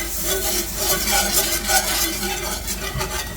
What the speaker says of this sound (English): And give them a stir.